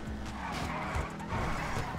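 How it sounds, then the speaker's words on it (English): A car skids and flips over in GTA 5, a dense scraping tire-skid and tumbling roar lasting the full two seconds, loud and close with no speech. "Oh, I flipped my car."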